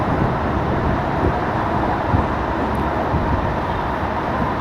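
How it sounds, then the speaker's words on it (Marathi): Pune–Sai Nagar Shirdi Express on its first inaugural run, racing through Manjari Budruk station at about 110 km/h. A loud, steady, unbroken rumble of wheels and motion fills the whole stretch. "आपण आता स्किप करत आहोत मांजरी बुद्रुक रेल्वे स्टेशन, फ्लॅट"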